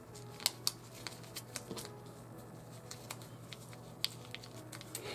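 Scissors snip through a paper pillow pattern in a quiet room, giving a handful of crisp, irregular clips and soft paper rustles close by, with no talking.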